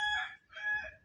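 A rooster crows twice in quick succession in the mobile game Free Fire, bright and clear, in a short, clean burst with nothing else around it.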